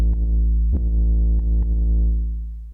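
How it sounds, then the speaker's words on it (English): Sublab synth bass on the Lucid Dreams preset, a deep sustained bass tone with a few soft plucked accents over it, holding steady then fading away near the end, alone. "for the bass, I'm actually using a patch of Sublab, Lucid Dreams preset"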